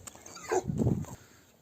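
A pet dog named Çiko, kept among tumbler pigeons, gives a short, close whimpering bark lasting under a second, with quiet surroundings before and after.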